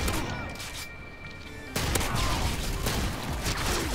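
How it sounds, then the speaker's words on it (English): A sentry gun in Modern Warfare 2 on PC fires in a dense, continuous burst of gunfire that is loud throughout and grows stronger partway, mixed with other game noise. "Sentry gun's doing work."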